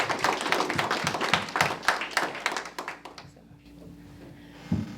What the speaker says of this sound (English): can I get a big round of applause for Riz for sharing his story.